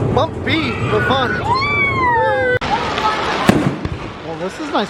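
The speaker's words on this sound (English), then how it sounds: "I love fireworks." Fireworks burst in the evening sky at the 2023 Trumbull County Fair, with whistling rising shells, a sharp loud bang and crackling pops amid crowd chatter and nearby talking.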